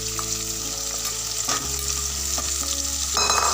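Chopped onion and then potato hit hot oil in a pan, giving a steady, fairly loud sizzle with occasional stirring scrapes and a brief swell near the end, with no talk.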